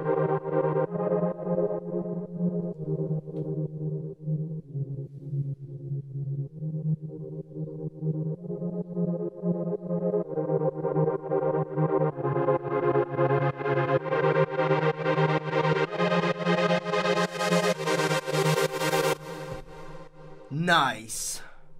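An EDM synth lead plays a sustained line through a low pass filter, first muffled and dark, then gradually opening up into a bright, buzzy, distorted tone before ending in a short warble.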